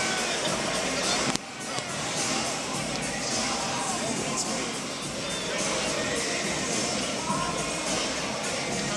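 A boxing crowd on its feet roars and cheers in a dense, continuous wall of noise at a championship fight, loud and sustained with a brief sharp thump early on.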